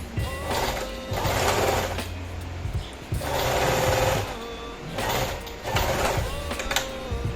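A sewing machine stitches a fabric cuff onto a sleeve in loud whirring bursts of a few seconds each, separated by brief pauses, close and without talk.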